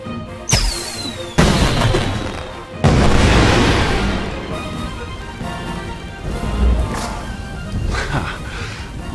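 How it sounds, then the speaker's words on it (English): Several loud booming bursts of fireworks in Blade & Soul, a whistling launch followed by crackling explosions that rumble and fade, with faint voices underneath. "aim your firework at the sky, not at people, okay?"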